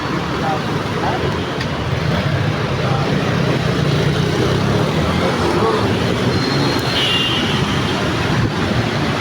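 Heavy highway traffic in the Philippines surrounds a rider on a motorbike, a dense steady roar of engines and road rumble that stays loud and constant throughout, with a faint voice mixed in.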